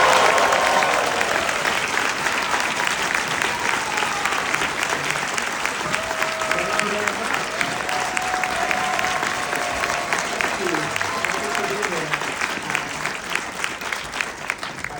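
Sustained audience applause at BFI Southbank greeting Edgar Wright onto the stage, dense steady clapping from a large crowd lasting the whole stretch, slowly easing toward the end.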